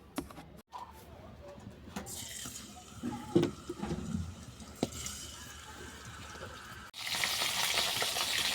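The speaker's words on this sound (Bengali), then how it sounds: "প্রথমে লবণ আর হলুদ মেখে মাছটাকে ভেজে নেব।" Snakehead fish rubbed with salt and turmeric frying in oil, a soft sizzle with a few louder spatters and clatters, then a sudden bright hiss near the end; a voice speaks faintly.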